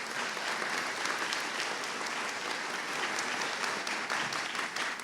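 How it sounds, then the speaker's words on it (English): A high school audience applauds a student speaker, a dense, sustained clapping that holds at an even level throughout with no break. "Let's give him another round of applause."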